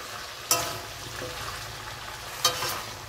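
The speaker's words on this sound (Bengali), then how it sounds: "এইদিকে পুঁই শাকটা ভাজা হচ্ছে" Malabar spinach and vegetables with green chilies fry in a pan, giving a soft, steady sizzle broken by two sharp clinks of stirring.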